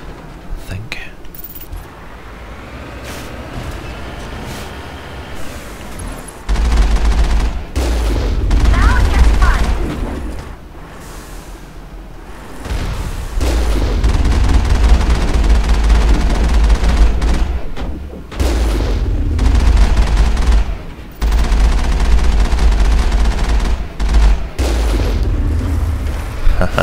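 Rockets and gunfire in a Mass Effect firefight: heavy low booms and bursts of shots come in repeated loud waves, with quieter gaps between them, under a player's voice.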